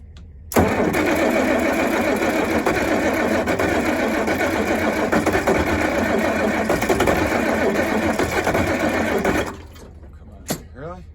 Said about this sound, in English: we're gonna do a cold start. No ether or anything.